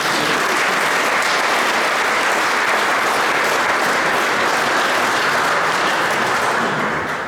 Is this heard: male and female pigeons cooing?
no